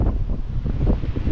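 Strong wind buffets the microphone near a deep cliff during a ride, a steady low roar with gusty rumbling throughout and no other sounds standing out.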